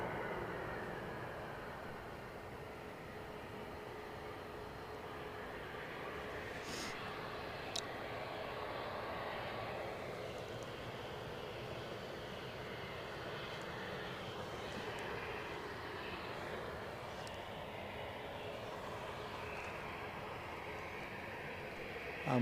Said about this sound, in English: Lufthansa inbound from Munich. A320.